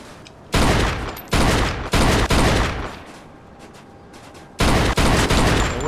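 Loud bursts of gunfire aimed at car tires in Mafia II, coming in rapid volleys separated by brief pauses, with several clusters of shots near and harsh.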